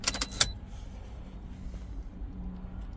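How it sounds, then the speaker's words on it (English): A key jangles as it is turned and pulled from a Toyota ignition, a brief cluster of close metallic clinks at the start, followed by a quiet cabin hum. "Turn ignition off again and remove key."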